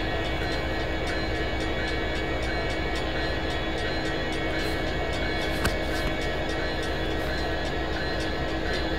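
Fastest possible train in the Roblox game Rails Unlimited running at full speed, a continuous dense rushing roar with a steady tonal hum, loud and unbroken throughout, with no speech over it.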